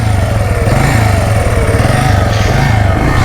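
A motocross bike engine running after being kicked into life, a loud, close, steady mid-pitched putter with a pulsing rhythm and slight swells in revs, heard alone.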